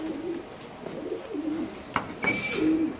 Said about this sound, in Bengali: এখানে আছে 71 নাম্বার কবুতরের কাছে কিছু মাদি কবুতর